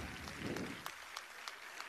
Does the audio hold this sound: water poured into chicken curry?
no